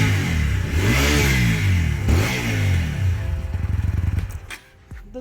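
TVS Apache RTR 200 motorcycle, BS6 version, revved at the exhaust: two strong rising and falling rev sweeps, then a fast burst of blips before dropping back toward idle, loud and close.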